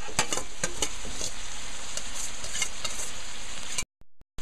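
Basmati rice sautés in a very hot pan with a dense, continuous sizzle and crackle, punctuated by sharp clicks of a utensil stirring, then cutting out abruptly near the end.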